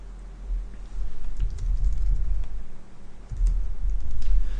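Close, fast clicking of keys on a computer keyboard as code is typed, coming in two bursts separated by a short pause, with no talking.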